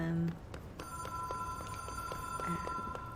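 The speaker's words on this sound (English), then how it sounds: "Oh, that's the phone ringing that we saw in the" An in-game telephone rings in the video game Control, its bell tone steady and fairly clear behind background game ambience, with a brief low voice at the start.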